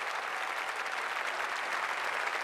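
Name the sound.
audience applauding the Irish team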